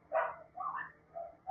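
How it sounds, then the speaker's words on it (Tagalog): Dogs in a neighbor's yard barking at a distance in a few separate bursts, muffled and moderately loud, with no talk over them. "ganap yung chorus ng aso ng kapitbahay namin"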